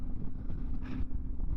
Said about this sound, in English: although it's super windy though. Not sure if you can hear the wind.